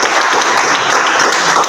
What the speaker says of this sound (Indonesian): dari kita berikan aplaus dulu